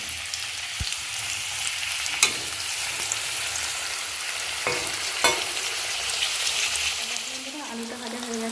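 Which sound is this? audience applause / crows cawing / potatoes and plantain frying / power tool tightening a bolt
potatoes and plantain frying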